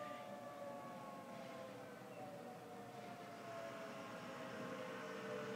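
Tornado civil defense sirens drone faintly in the distance on a stormy afternoon, a steady sustained wail under broad background noise with slow gliding pitch.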